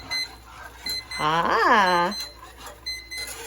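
A small kitchen timer sounds while candied orange sauce cooks on the stove: a single warbling electronic tone, rising and falling in pitch, lasting about a second over quiet kitchen background.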